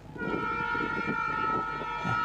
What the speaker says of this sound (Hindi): अब जाके इसने भी हॉर्न दिया